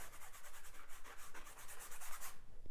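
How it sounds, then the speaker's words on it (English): Close, soft rhythmic scrubbing of a paintbrush working paint onto a painting surface, a quick series of brushy rubbing strokes that stop near the end. "I'm just kind of scrubbing it in"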